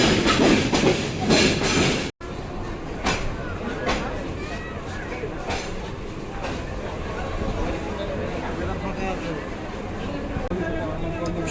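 Parabat Express passenger train in motion, a steady broadband rumble with rhythmic clatter of wheels on rail joints and occasional squeal, with voices speaking over it and a brief dropout near the start.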